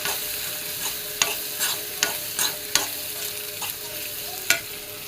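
Food being stirred and sautéed in ghee in a heavy-bottomed pan, with a steady soft sizzle broken by several sharp scraping clicks of the spoon against the metal, close and fairly quiet, with no talking.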